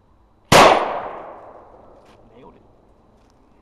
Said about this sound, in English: Test fire number two with a new stock made out of oak.